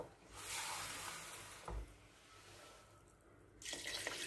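Water pours into a pressure cooker over beef cheeks being braised in red wine sauce, a steady splashing rush that swells and fades twice over a few seconds in a quiet kitchen.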